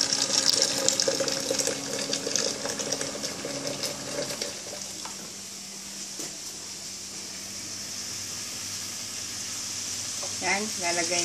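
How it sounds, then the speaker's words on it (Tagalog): Water pours steadily into a cooking pot for a stew of spare ribs with sea cucumber and mushrooms, a continuous splashing rush that thins out partway through and carries on quietly. "Yan, lalagay natin ang tubig."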